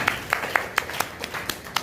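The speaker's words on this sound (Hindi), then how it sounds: "एक बार जोरदार तालियां" Rhythmic clapping from an audience at a devotional Ram song performance, steady evenly spaced claps in unison at moderate volume with no other sound.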